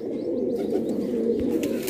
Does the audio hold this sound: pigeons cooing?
yes